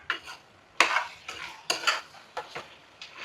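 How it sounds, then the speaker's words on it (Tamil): Mutton curry being stirred in a cooking pot, with several separate scraping, clattering strokes of a utensil against the pot, spaced irregularly over a quiet background. "இந்த கிண்டி விட்டுருவோம் கொஞ்சம்."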